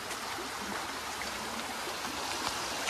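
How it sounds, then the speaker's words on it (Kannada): A hill stream flowing through greenery near a waterfall in north Goa, a continuous even rush and trickle of water, fairly faint and with no talking. "ಸುತ್ತಲೂ ಹಸಿರು, ಮಧ್ಯೆ ನೀರು ಬರ್ತಾ ಇದೆ"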